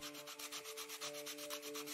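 Rhythmic sanding of a doll house in the game Toy Tinker Simulator, quick repeated rubbing strokes at an even pace, faint and alone over a steady tonal background hum.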